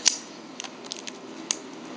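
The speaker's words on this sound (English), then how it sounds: "I like to cut my pieces of tape in little pieces like that. And then I cut it in half." Scissors snipping small pieces of tape in half, a few quick crisp clicks up close, one at the start and another near the middle, over faint room noise.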